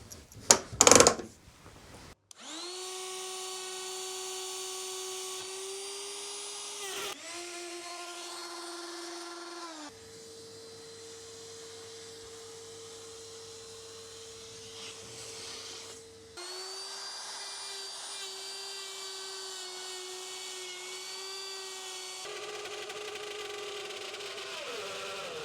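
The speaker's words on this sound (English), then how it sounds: "So now I can see where the router is going to cut" An old wood router cutting slots in wood for workshop storage, a loud steady motor whine held through several long passes with brief stops and a lower strained tone mid-cut, close and without talk.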